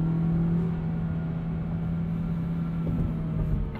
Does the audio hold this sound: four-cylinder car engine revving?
yes